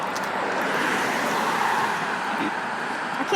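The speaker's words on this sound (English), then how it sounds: "Here comes a truck." A truck passes close by on a busy main road, making a broad, steady rumble of traffic that swells slightly and fades, with no voices.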